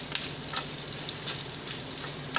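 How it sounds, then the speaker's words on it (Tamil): Okra and dried red chillies sizzle steadily as they fry in a pan of tempering oil, a continuous close crackle with occasional sharper pops and no talking. "வெண்டைக்காய் ஒரு சைடு வதங்கிக்கிட்டு இருக்குது"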